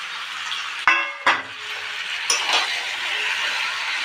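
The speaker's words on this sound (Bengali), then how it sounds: "এবার আলু ভাজাগুলো দিয়ে দিলাম" Fried potato pieces go into a simmering meat curry, a soft sizzle with a couple of sharp clinks of a utensil against the pot, then steady quiet bubbling and stirring.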